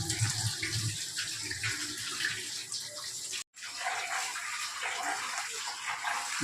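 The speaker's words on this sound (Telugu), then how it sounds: "రైస్ కడుగుతున్నావా" Rice being rinsed in water in a home kitchen, a steady faint running and sloshing of water close by that pauses for a moment midway before continuing.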